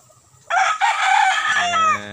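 A derby gamecock at a Filipino fighting-rooster farm lets out one loud, close crow lasting over a second, its call tapering into a harmonic tail, with faint background noise before it.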